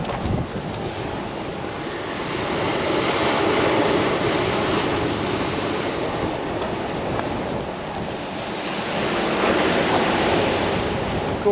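Sea waves surge with the tide running hard along a beach with groynes at a fishing match, a loud continuous wash of surf with wind buffeting the microphone, rising and falling in broad swells.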